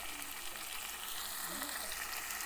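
Ginger-garlic paste frying in a pan for a home-style fish curry, a steady close sizzle with faint stirring throughout.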